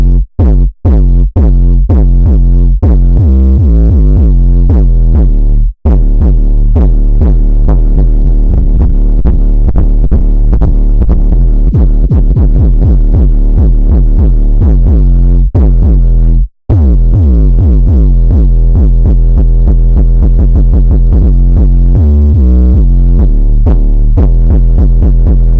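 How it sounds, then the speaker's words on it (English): A low, gritty 808 bass synthesized in Serum throbs loudly in a continuous stream of distorted sub-bass notes with shifting pitch, briefly cut off a couple of times, with no other instruments or voices. "that is roughly a low, gritty 808"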